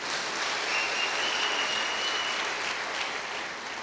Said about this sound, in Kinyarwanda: baguha amashyi menshi cyane